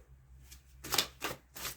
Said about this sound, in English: now I'm going to shuffle from a deck that I designed